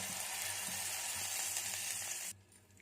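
Mustard seeds, urad dal and cumin sizzle in hot ghee in a pot on the stove, a steady crackling hiss with faint popping that cuts off abruptly near the end.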